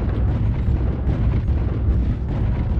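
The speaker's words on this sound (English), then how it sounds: "There's one guy top H9. He's shooting down at me." Gunfire from an enemy player in a video game match, dense, rumbling booming bursts of shots rolling together loudly for a few seconds.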